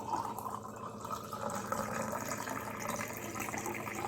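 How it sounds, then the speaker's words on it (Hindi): Warm water pours steadily into a cup, a continuous liquid trickle and splash lasting about four seconds, fairly quiet and close, with no voices over it. "ये पानी मैंने डाल दिया है"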